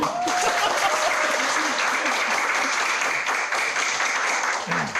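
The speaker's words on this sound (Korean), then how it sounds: "박수 한번 주세요." A large audience at a world choir festival in Gangneung, South Korea, applauds the Gangneung city choir with a dense, steady wash of clapping that holds at full strength, with faint voices underneath.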